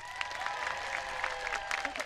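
Brief burst of audience applause for Jack at a live city show, a dense, even patter of many hands filling the space without pause.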